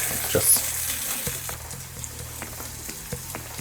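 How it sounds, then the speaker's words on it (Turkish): Rice sautéing in a hot pan for a pilaf with onions, a close, steady sizzle broken by several stirring scrapes and clinks of a utensil against the pan. "Böyle 1-2 dakikada pirinçlerle kavurup sonra baharatları ve suyunu."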